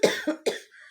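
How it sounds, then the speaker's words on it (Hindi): Three sharp coughs in quick succession, close and fairly loud, from a person with a slight cough brought on by strawberries in a fruit chaat, trailing off into a faint breathy tail. "मुझे ना इस वजह से थोड़ी सी खांसी आ रही है"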